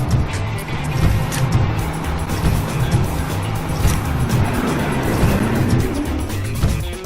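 A beverage step-van truck drives in a kids' vehicle video game, giving a loud continuous engine drone with a steady rumble and rising and falling motor tones.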